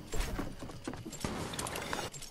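Horse hooves clip-clop in a steady, quick rhythm in Fortnite, over a busy, layered background of game noise, fairly close and moderately loud.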